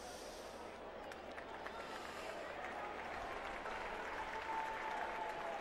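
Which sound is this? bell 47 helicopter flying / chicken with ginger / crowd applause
crowd applause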